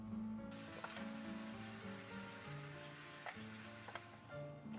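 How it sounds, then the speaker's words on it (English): Twelve ounces of barely defrosted, store-bought chopped onions sizzle and fry steadily in a pan, a continuous close crackle with a few brief scraping clinks. "I'm going to throw in 12 ounces of already chopped up onions from the grocers."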